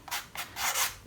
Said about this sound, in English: and just sand that off, and it can just make that a little bit neater so there's no pieces sticking out